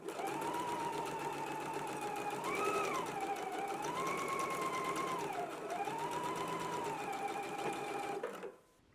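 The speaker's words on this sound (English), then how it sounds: "Let's go ahead and stitch it in place now." A sewing machine stitches the side seam of a McCall's 7969 pullover dress, running in one continuous whirring stretch whose speed rises and dips a few times before it stops near the end.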